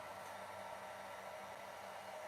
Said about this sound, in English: I'm just going to set up my blow dryer here.